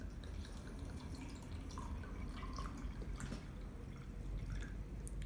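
Water poured over coarse salt covering paper, a faint continuous trickle with scattered soft drips and splashes throughout, no voices.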